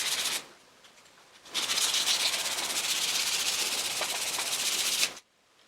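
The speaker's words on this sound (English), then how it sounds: "Now I'll sand them a bit to clean them up." Small milled wooden rods for a miniature log cabin are sanded, making a steady, close hiss of abrasive rubbing that runs for several seconds after a brief opening burst.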